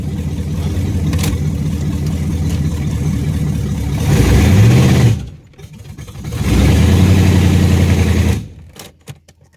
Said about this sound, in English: Because she will dry rev like a beast.